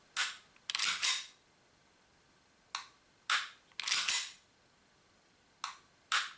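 Trigger pulls on an ACL SAI 17 gas airsoft pistol, several sharp close mechanical clicks and snaps in spaced pairs, alone against near silence.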